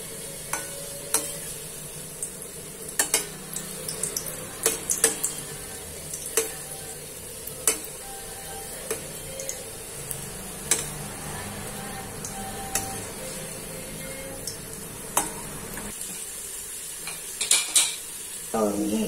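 Karanji, sweet stuffed pastries made for Sankranti, deep-frying in a pan with steady hissing and crackle, punctuated by frequent clinks and scrapes of a utensil stirring against the metal. A voice speaks faintly now and then.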